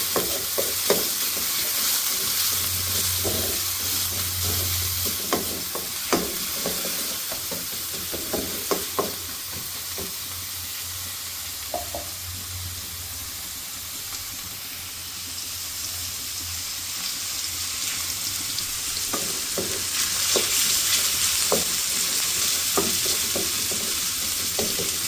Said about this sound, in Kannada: ಇದು ಈರುಳ್ಳಿ ಸ್ವಲ್ಪ ಲೈಟ್ ಬ್ರೌನ್ ಆಗಿ ಅಲ್ಲಿವರೆಗೂ ಬೇಯಿಸ್ಕೊಳ್ಳಿ.